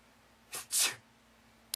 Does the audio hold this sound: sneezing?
yes